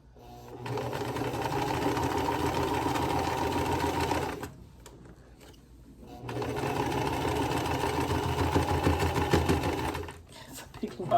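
A sewing machine stitches a quilt block in two steady runs, pushing through a thick lump of fabric with a brief pause between runs. Someone talks over the whirring.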